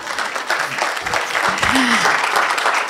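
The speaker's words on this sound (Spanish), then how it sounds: "y si no, me aplauden" Audience applause at a state modernization forum, a dense, steady clatter of clapping filling the short stretch, with some voices mixed in.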